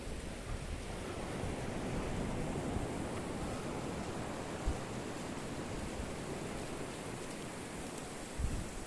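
A waterfall flows into a seaside bay in Ireland at night, making a continuous rushing roar of water with a couple of faint low thumps, steady throughout and free of talk.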